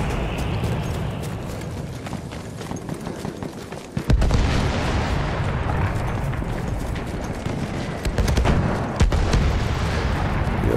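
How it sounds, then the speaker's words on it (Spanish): Heavy booming blasts of artillery cannon fire in the video game Battlefield 1, loud and close, with sharp percussive hits around the middle and a constant rumble of battle throughout. "Dios mío, cómo suenan los cañonazos."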